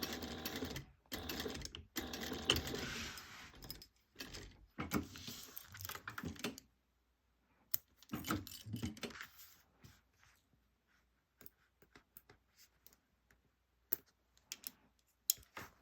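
A sewing machine stitches a crossbody bag, sewing up as high as possible beside the main body: bursts of rapid mechanical whirring over the first seven seconds, then a pause, another short run near eight seconds, and scattered faint clicks afterward.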